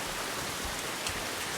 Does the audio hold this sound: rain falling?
yes